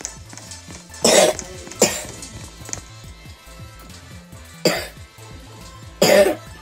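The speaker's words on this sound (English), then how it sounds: "I have a really bad cough, just saying." Four harsh, close coughs come at uneven intervals over soft, rhythmic background music.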